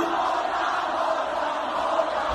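Large concert crowd chanting along to a rap song in unison, a dense sustained roar of many voices filling the space.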